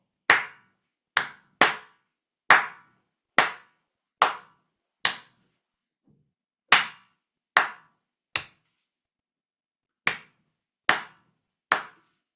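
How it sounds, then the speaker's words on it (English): Hand claps tapped out as a nursery-rhyme rhythm, about a dozen sharp, close claps in short grouped phrases with brief pauses between them, clean and alone with no voices. "I'm gonna clap back this one myself. It's London Bridge."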